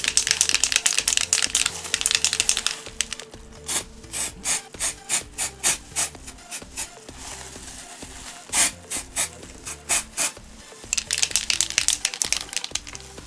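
A temporary hair colour spray can rattles in rapid bursts as it is shaken, with harsh hissing sprays at the start and end. The sounds are close and loud, with no talking.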